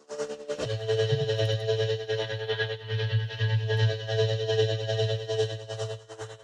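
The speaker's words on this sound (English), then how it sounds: "If I run a sine wave through it, what does that sound like? Well, it sounds like this." A pure sine wave fed through a custom-built audio plugin effects chain comes out as a steady, buzzing distorted tone with a rich stack of harmonics and slight chorus-like wobble, droning continuously for several seconds.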